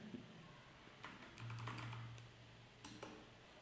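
Computer keyboard typing as an email address and password are entered at a login screen, with a few scattered keystrokes followed by two quick bursts of clicks, close and fairly quiet over a steady low hum.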